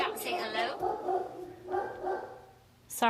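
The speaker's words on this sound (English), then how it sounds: "Sorry if you can hear my dog barking." A pet dog barks in a few short, sharp bursts from nearby, interspersed with quieter whimpering, heard alongside a person talking indoors.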